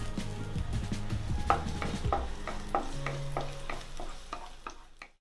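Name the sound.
sautéing chopped garlic in a pan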